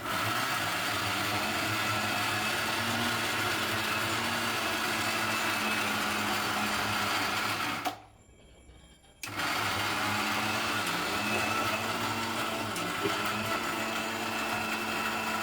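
An electric mixer grinder whirs through green chutney made with lemon, salt and ice, a loud steady whine that cuts off for about a second before starting again at full speed.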